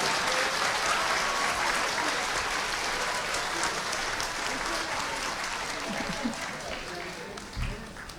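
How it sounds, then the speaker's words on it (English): An audience applauds the youngest children at a community annual day, with dense, loud clapping and crowd voices that taper gradually toward the end. "Give them a big round of applause."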